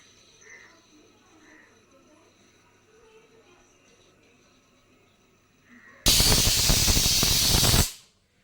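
A loud, sustained hiss of steam from a pressure cooker whistle bursts out for about two seconds and then cuts off, following a quiet stretch of faint room noise; rice pulao is cooking.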